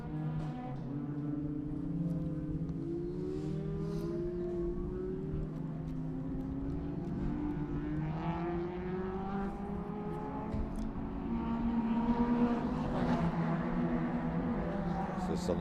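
Race cars at a circuit racing event drone steadily past on their final laps, engine tones rising and falling in overlapping waves at a distance, continuous and moderately loud.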